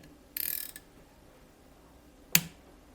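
Torque wrench on a bolt giving a single sharp click near the end, preceded by a brief ratcheting rasp; otherwise quiet, no talk.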